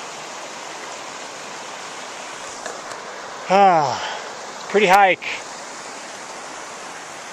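A small mountain creek on a Timpanogos hike flows with a steady broadband rush, near and continuous, while someone briefly speaks over it partway through.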